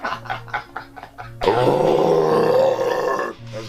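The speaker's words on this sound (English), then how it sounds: "Oh, that's a burp." A loud, drawn-out burp of about two seconds, close to the microphone, coming after a series of short grunting sounds, in a band's recording studio.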